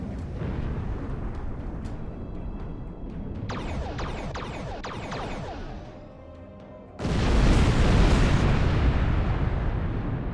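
Ordered orbital bombardment in Star Trek Online: rumbling blasts and rapid bursts pound continuously, go briefly quieter, then a massive loud explosion hits and roars on to the end.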